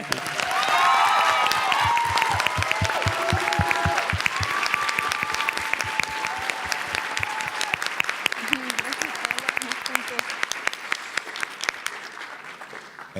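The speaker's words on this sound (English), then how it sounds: "if we could give her another round of applause" A high school audience gives sustained applause, loud, dense clapping that swells early then gradually thins, with scattered individual claps and some voices and cheers mixed in.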